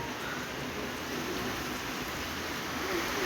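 Steady rain pours down in a dense, even hiss that fills the scene without pause, close and constant, with no voices.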